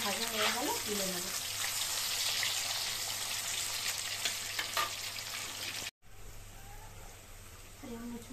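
Dal fries in oil with a steady, fairly quiet hiss and crackle, briefly cut off and then resuming, while someone talks over it at the start and end.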